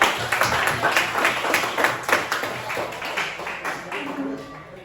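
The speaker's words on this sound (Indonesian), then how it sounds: "Oke, tepuk tangan." A room full of people applauds steadily, dense rapid clapping for several seconds that gradually thins toward the end.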